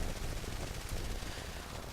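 Sustained enemy machine gun fire in the War Thunder air combat game, a dense, continuous rattling burst that stays loud and steady throughout with no pauses.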